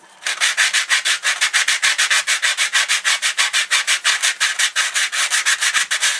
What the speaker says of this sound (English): Quick rub down, and it just takes off that extra bit of burr